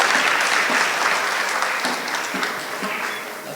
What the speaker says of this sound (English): A big round of applause for all of them, please.